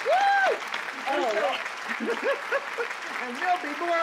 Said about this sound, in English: let's everybody give a round of applause for Roberta